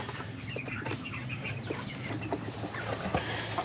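Chickens cluck and murmur softly inside a mobile coop on a muddy farm, scattered short calls overlapping in a close, busy flock with no talking.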